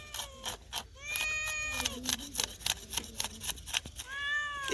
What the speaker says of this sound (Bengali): এই যে একটি বিড়াল আছে এখানে, এই বিড়ালটি মাছ দেখে চলে আসছে।